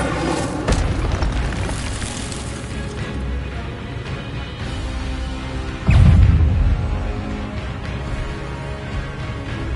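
In Hogwarts Legacy combat, an Incendio fire spell goes off among other casts, with a heavy whooshing boom near the middle over ongoing crackling magic effects.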